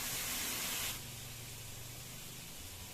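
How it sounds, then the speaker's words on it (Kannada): Leftover-rice dosa batter hits a hot tawa with a bright burst of hissing sizzle for about a second, then settles into a softer, steady crackle. "ಈಗ ತವಾ ಕಾದಿದೆ, ದೋಸೆ ಹಾಕೊಂಡ್ಬಿಡೋಣ."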